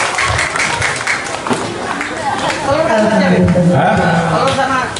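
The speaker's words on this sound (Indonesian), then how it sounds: "Ya, berikan tepuk tangan." A gathering at a Maulid Nabi celebration with a habib preacher breaks into dense crowd applause. Voices and chatter rise over the clapping toward the end.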